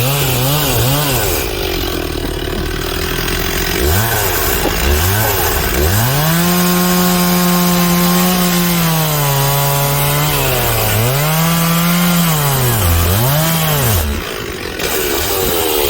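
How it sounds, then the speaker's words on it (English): A chainsaw works the tip of its bar into an uprooted tree, loud and close, the engine pitch rising and dipping as it bogs and recovers under load without pause. "We'll work with the tip of the chainsaw."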